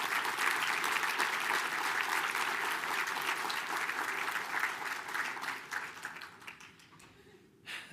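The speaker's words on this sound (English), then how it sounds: "give yourself a round of applause" Audience applause at a solar design competition event: many people clapping steadily in a large room, fairly distant, thinning out and fading toward the end with a few last claps.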